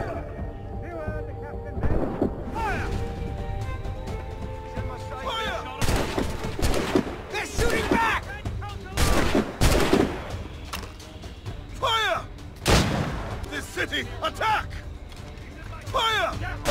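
Cannon and musket volleys crash out in Assassin's Creed Rogue naval combat, several loud, sharp broadband blasts at irregular intervals, mixed with shouted commands from a crew over steady background din.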